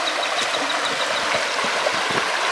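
A small creek in Australia's Top End streams and trickles without pause, a close, even wash of running water with no voices.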